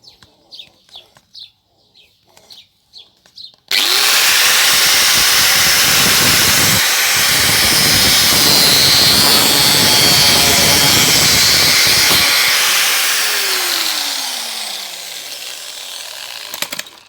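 Power tool fitted with a spiral bit cutting holes into a pipe, a loud close grinding roar that starts abruptly after a few quiet ticks and holds steady before tapering off, with a falling whine near the end.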